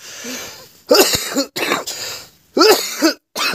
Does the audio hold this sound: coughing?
yes